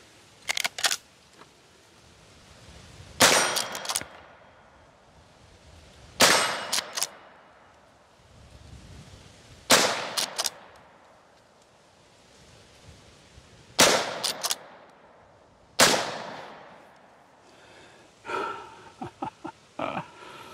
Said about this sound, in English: let's shoot the 17 HMR.